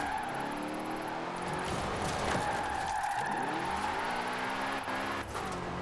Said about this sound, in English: I'm flooring it right now, and it's like not hitting my limiter